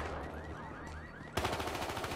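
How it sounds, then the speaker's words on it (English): Gunfire in the video game Battlefield Hardline: a steady, distant rattle of shots under background game noise, then a louder, denser burst of rapid fire cutting in near the end. "Oh, people are shooting."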